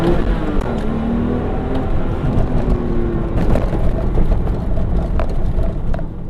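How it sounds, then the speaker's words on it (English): Manual Porsche 911 pulling hard from a stoplight on a San Francisco street, engine roar loud and steady from start to finish with rumbling low end and no talk over it. "Do another little launch here at this stoplight."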